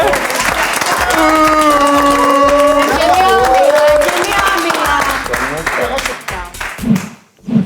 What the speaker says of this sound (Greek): Ένα χειροκρότημα για τις δύο ομάδες.